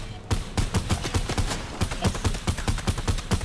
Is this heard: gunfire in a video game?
yes